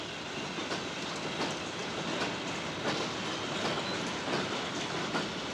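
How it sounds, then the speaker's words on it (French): Express passenger train 1001 rolls off the Bordeaux main line, a dense continuous rumble of wheels and carriages with regular clickety-clack beats over the rails, loud and close throughout. "notre rapide 1001, qui va quitter ici l'artère maîtresse de Bordeaux pour se diriger vers Vierzon"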